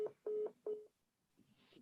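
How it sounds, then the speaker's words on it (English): A phone going off with a short series of electronic DTMF-style beeps, three distinct tones in quick succession, followed by faint muffled rustling. "Guess her phone went off."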